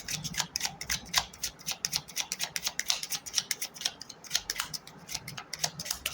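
Tarot cards are shuffled close by in a rapid run of crisp riffling snaps and ticks, quiet and uneven, with no talk over them.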